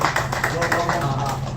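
Audience hands clap in a quick rhythmic burst at a virtual earners bootcamp event, heard under a speaker's amplified voice.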